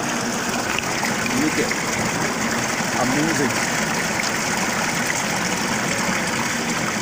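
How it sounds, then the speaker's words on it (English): A submersible pump used for a fish farm recycling system pushing out a strong gush of water, a continuous loud rushing and splashing with a faint engine hum, while people talk over it. "Look at the volume of water coming out."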